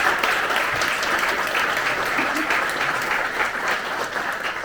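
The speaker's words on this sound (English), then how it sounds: "A round of applause to Anders." Audience applause after a talk on agentic AI and business results: a dense, even wash of clapping from a sizable crowd, sustained throughout and tapering only slightly at the end.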